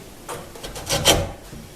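A few short scraping strokes of a chisel paring waste wood from a mortise, close up and fairly quiet, separated by brief pauses.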